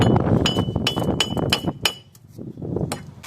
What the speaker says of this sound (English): I'll just hit it with the hammer